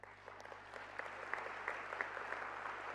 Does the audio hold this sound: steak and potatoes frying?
no